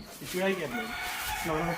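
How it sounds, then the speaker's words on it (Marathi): A rooster at a poultry farm gives short, throaty crowing calls close by, two bursts separated by a brief pause. "कोंबडा तर घेतलाय मस्त आहे"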